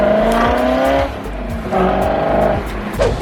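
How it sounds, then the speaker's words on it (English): A BMW M5 drives in traffic alongside a Mercedes S63 AMG, its engine droning loud and close with rising and falling revs and repeated gear-shift dips, with no talking. "So now we're in the M5, cruising with the S63 AMG."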